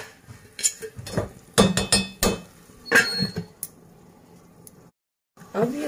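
A lid goes onto a cooking pot while vegetable vermicelli pulao is being made, giving several sharp metallic clinks and clatters in quick succession, then a quieter stretch and a brief silence.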